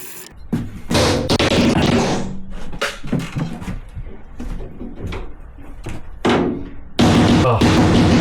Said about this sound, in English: we're going to have to hammer it through